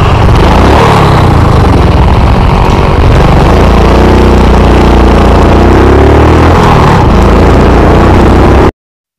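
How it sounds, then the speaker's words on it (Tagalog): A motorcycle engine idles steadily and loudly up close, with low rumbling throb and slight revving variation, stopped on a ride to Kaybiang Tunnel; no talk. "sabi niya may naririnig daw siyang ingay sa aking motor"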